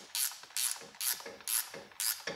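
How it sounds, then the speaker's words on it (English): A wrench tightens a motorcycle rim lock in short, evenly spaced ratcheting strokes, about five close clicking pulls in quick rhythm with no talking. "So what I'm doing is I'm tightening the rim lock."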